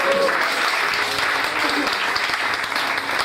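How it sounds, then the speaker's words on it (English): A church congregation clapping in praise of Jesus, dense sustained applause mixed with voices calling out beneath it, steady and fairly loud throughout. "Clap for Jesus"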